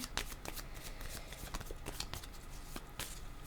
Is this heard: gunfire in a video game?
no